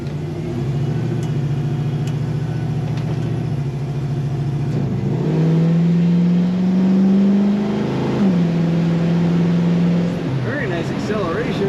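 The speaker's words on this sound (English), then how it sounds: "Acceleration, nice firm shifts on the automatic transmission." A 1964 Chevrolet Chevelle Malibu SS accelerating on the road, its engine droning steadily with pitch rises and drops as the automatic transmission shifts through gears, under continuous cabin rumble.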